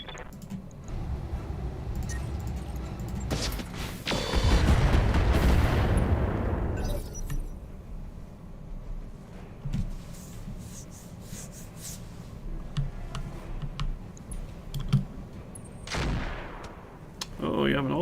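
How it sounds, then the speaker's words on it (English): Rapid bursts of autocannon fire in a combat video game, a loud dense volley in the middle followed by scattered shots and another burst near the end, with radio-style chatter and talk around it. "Oh, you have an autocannon of some kind."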